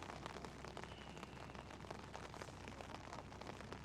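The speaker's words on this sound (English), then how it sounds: "the rain sound effects are pretty annoying" Rain effects from a swimming video game form a steady, dense patter of drops on a surface, moderately quiet and continuous with no talking.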